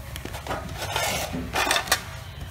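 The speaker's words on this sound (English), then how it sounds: "my husband's washing dishes, so it's kind of loud" Dishes are washed in a home kitchen in the background, with scattered clinks and clatters of plates and cutlery over a steady running-water hiss, moderately loud and continuous.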